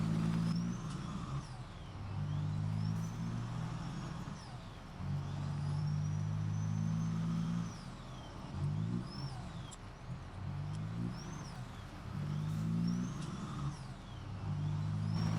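A Ford AeroMax L9000 semi truck in Farming Simulator 17 hauls a heavy trailer, its engine droning low and steady with repeated rises and falls in revs, moderately quiet and with no one talking.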